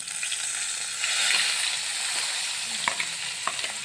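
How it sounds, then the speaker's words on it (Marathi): Ground spice paste for a curry hitting hot oil, a loud hissing sizzle swelling early then settling into a steady fry with a few brisk stirring knocks toward the end, no one speaking. "हे वाटण आपण ठोसराचं बारीक करून घेतलेलं आहे ते टाकूया आपण आता तेलामध्ये"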